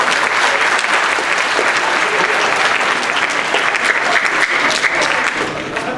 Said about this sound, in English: Let's go ahead and give them a clap, Symphonic Band.